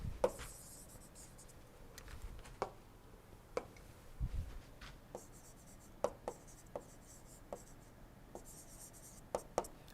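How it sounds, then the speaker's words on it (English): Chalk or marker being wiped off a lecture board, a series of sharp scrubbing and tapping strokes spaced irregularly, close and fairly quiet in an otherwise hushed room. "Let me erase it."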